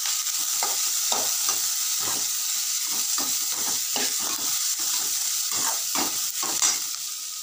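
Onion, crushed garlic and ginger sauté in a hot pan, a continuous close sizzle broken by repeated stirring scrapes in an irregular rhythm.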